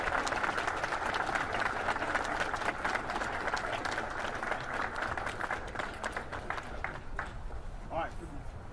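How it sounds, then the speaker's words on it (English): A round of applause after a swearing-in oath at a military ceremony, dense sustained clapping from a crowd that thins toward the end, with talk rising underneath. "Give him a round of applause"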